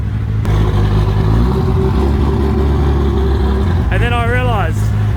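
A Toyota Supra's engine rumbles loudly and steadily at close range while the car is being backed out to the drive; a voice speaks briefly near the end over the engine.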